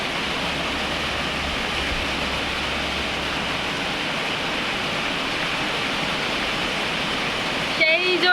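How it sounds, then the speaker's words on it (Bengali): Rain pours down in a dense, steady rushing wash that fills the whole stretch, and a voice briefly cuts in at the very end. "বৃষ্টি নামতেছে"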